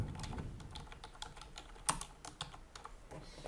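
Rapid keystrokes on a computer keyboard as a title is typed into a blog gadget, a close, dry run of irregular clicks with one sharper tap near the middle and no talking.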